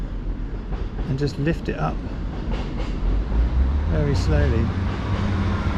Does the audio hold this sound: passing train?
yes